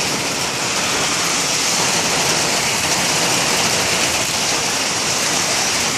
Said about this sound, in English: Raining for a while. And hard.